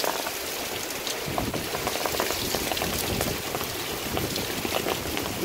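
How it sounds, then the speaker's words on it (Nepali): Wind-driven heavy rain in Korea pelts surfaces in a thick, even crackling rush, close and loud, with occasional sharper drop impacts standing out. "हावा चलेर पानी परेको"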